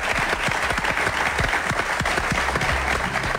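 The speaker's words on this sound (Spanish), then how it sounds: "Un gran aplauso para Eve Bonafín y Estela Carlotto." Dense applause from a television studio audience fills the room steadily and loudly throughout, a continuous wash of many hands clapping with no voices over it.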